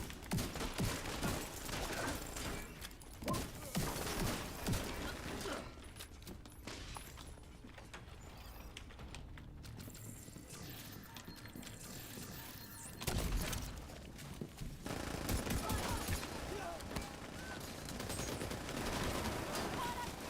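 Rapid automatic gunfire and bursts of shooting from The Division 2 play continuously and loudly, mixed with game effects and some voice chatter.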